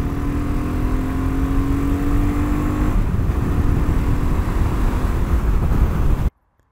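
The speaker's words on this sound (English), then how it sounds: "There's a little ride on country roads on the BSA 650 Goldstar." A BSA 650 Goldstar single-cylinder motorcycle ridden on country roads, its engine a loud, continuous drone with a steady hum and wind rush, then cutting off abruptly near the end.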